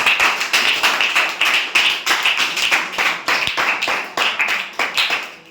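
A group of people clapping hands during a classroom quiz, giving a loud, close, continuous burst of rapid, slightly uneven claps that lasts several seconds.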